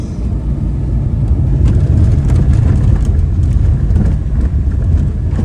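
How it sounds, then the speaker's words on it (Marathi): A Range Rover drives along the road toward a wedding venue, producing a steady, loud low rumble of engine and road noise with a wash of wind across the whole stretch. "Range rover."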